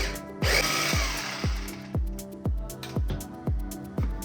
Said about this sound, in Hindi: तो उसके लिए आपको कॉर्न को एकदम कोर्सली ग्राइंड कर लेना